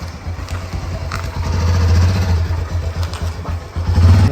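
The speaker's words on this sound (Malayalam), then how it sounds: "ഓക്കെ, ഞാൻ പോയി ബൈക്ക് എടുക്കട്ടെ." A motorcycle engine starts and runs with a low steady rumble, swelling slightly as it revs, close and fairly loud on a night street in Bangalore.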